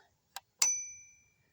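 A small click, then a single bright ding from the tiny doorbell of a vintage 1980s Fisher-Price Little People Tudor House toy, ringing out and fading over about a second.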